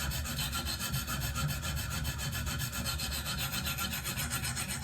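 A Benchmade Steep Country S30V knife is stroked across a KME sharpener stone in a steady, rapid back-and-forth rasping rhythm, close and unbroken, with no talking.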